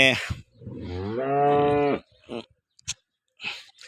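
Cows at a cattle market moo up close, with one drawn-out call followed by a few short, scattered bursts of sound.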